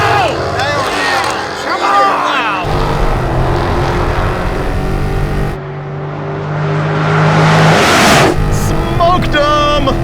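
A drag racing car launches and spins its tires, its engine roaring loud and close with rising revs through a continuous blare, while people talk over it.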